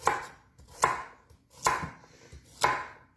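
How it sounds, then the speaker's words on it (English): Four sharp knife strokes roughly chopping carrots on a cutting board, each a crisp close thunk spaced about a second apart, with nothing else sounding. "So the same thing with the carrot. We're just going to roughly chop this."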